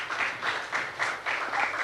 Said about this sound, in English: Give them a round of applause from